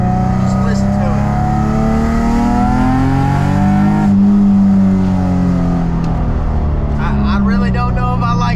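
A car with a cheap aftermarket eBay exhaust revs loudly with a raspy, droning exhaust note, pitch climbing and easing back, while people talk over it.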